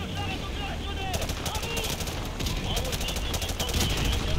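Rocket launcher blasts and gunfire in Call of Duty: Modern Warfare Remastered, with dense, continuous bursts of shooting at a steady loud level and a sharper, busier stretch of fire in the second half, with voices mixed in.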